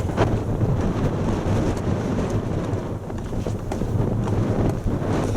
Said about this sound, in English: I'm raising my voice a bit because it's quite breezy.